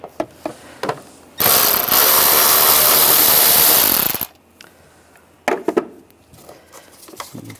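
A tool backs a small screw out of a headlight bracket with a 7mm socket while the headlight assembly on a 2013–2016 Dodge Dart is replaced. It makes one loud, sustained mechanical whirr lasting about three seconds, framed by scattered clicks and handling knocks.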